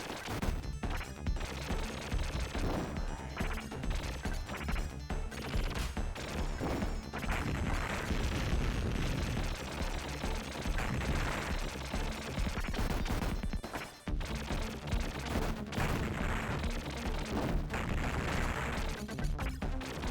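Explosions and gunfire from the side-scrolling run-and-gun video game Contra Hard Corps, a dense, continuous barrage of blasts and shots that stays loud for about twenty seconds with one brief dip midway.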